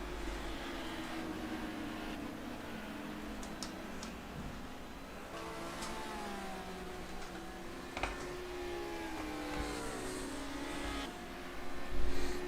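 Touring race cars lap the Jarama circuit in Spain, engines droning and shifting pitch at a distance under a steady mechanical hum, with a closer rise in engine noise near the end.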